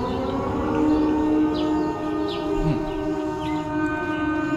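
Eerie layered wailing tones of Siren Head in a horror video game, like a distant siren, drone steadily with faint chirping sweeps drifting over a low rumbling background.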